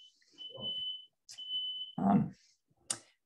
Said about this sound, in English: I was worried a fire alarm might be going off